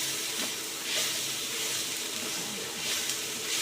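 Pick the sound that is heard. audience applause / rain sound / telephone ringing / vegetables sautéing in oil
vegetables sautéing in oil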